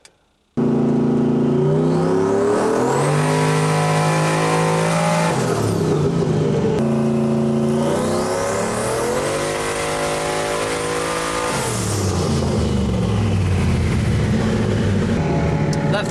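Coyote-swapped Ford Foxbody V8 roaring on a dyno, loud and close, with two long wide-open pulls whose pitch climbs steadily and then drops off sharply, the second pull followed by a lower-pitched run.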